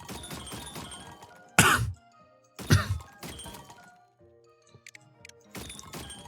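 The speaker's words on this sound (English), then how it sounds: "Sorry for coughing." Two loud, harsh coughs burst out from a person during video-game play, standing out sharply over quieter tinkling game music and effects in the background.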